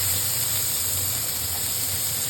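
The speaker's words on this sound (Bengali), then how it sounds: "পেঁয়াজটা এখন ভালো করে ভেজে নেব, লালভাবে ভেজে নিতে হবে।" Chopped onions frying in hot oil in a home kitchen, a steady, even sizzle and hiss close up, continuous with no talking over it.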